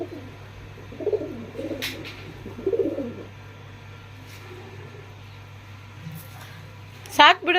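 A pet pigeon with chicks gives soft, low cooing calls close by in a few short bursts, with faint background hum and people talking nearby.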